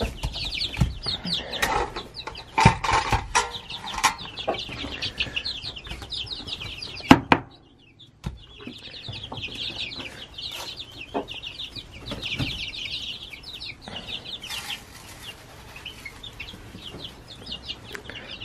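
Farm poultry, including turkeys, clucking and calling in a barn bedded with wood shavings, with a busy stretch of overlapping calls, a brief lull midway, then steady clucking again; an occasional wing flap may be heard.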